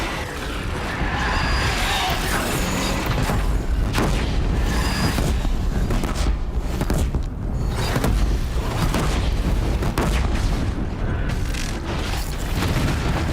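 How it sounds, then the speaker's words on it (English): Disc launcher firing in the Horizon Zero Dawn video game during a battle, with heavy booming launches and mechanical clatter over a dense, continuous wash of combat noise throughout. "Disc launcher."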